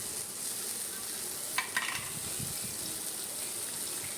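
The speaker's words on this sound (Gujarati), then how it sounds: "હવે આપણે નાખીશું લસણ મરચાંની પેસ્ટ" Garlic chili paste dropped into hot tempering oil with popped mustard seeds and cumin, giving a steady hissing sizzle with a few brief clinks, moderately quiet and close.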